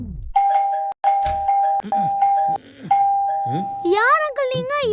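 A doorbell rings at a home's door in a Diwali-themed comedy skit, sounding several tones in a row with short gaps, loud and close, while a voice talks over the later part.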